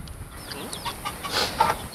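Faint, high chirps from chicks about five or six days old peep intermittently over a low background hiss, brief and soft.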